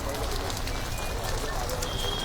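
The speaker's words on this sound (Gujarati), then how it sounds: "હાલ ધોધમાર વરસાદ વડોદરાના અલગ અલગ વિસ્તારમાં વરસી રહ્યો છે" Heavy monsoon downpour in Vadodara, a steady dense hiss of rain filling the whole clip with no pause, loud and close, with no clear voices.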